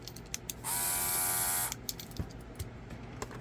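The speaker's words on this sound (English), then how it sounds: "this is the portable airbrush" A portable airbrush compressor buzzes steadily for about a second, close and fairly loud, then cuts off; faint clicks and handling noises come before and after.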